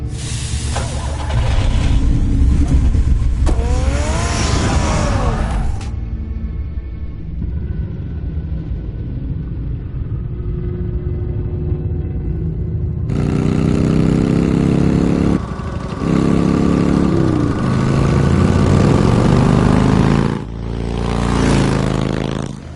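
A car engine in Batman: The Telltale Series idles and revs, with rising and falling pitch sweeps as it pulls away, then a steady drone broken by brief bursts and shifts, loud and close with no talk.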